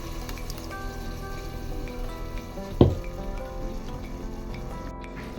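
Onion and masala fry in a pan for a chicken and potato gravy, a steady close sizzle broken once by a sharp clatter of a utensil against the pan.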